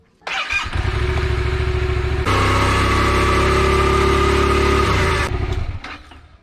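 A Yamaha MT-07 motorcycle engine starts and idles close by, then revs harder for a few seconds before settling back to a steady idle and cutting off. No voices are heard.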